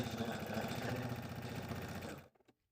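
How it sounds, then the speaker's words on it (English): Sewing machine stitching small plush squirrel accessory pieces, a close, steady burst of fast needle strokes for about two seconds that cuts off sharply, followed by a couple of soft clicks. "Let's go sew those together now."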